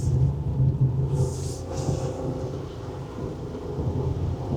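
Steady rain drums on a Nissan Dayz (second-generation B43W, 2025 late model) driving a wet mountain road, a dense low rumbling wash of water and road noise with a couple of brief hissy splashes.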